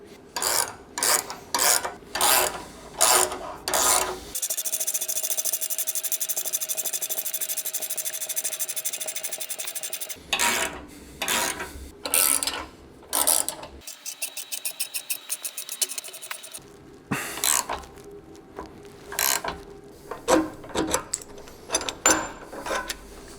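Subframe bushings pressed into a BMW 850i V12 with an adjustable E46 M3 bushing tool: loud, close bursts of rapid ratcheting alternate with long grinding, scraping stretches and brief silences, with no talk.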